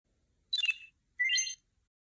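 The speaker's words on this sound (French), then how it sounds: "J'ai entendu mes deux bips, mon image est donc bien prise" Two short high electronic beeps from a camera about half a second apart, clear and close against near silence.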